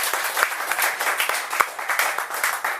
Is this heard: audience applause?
yes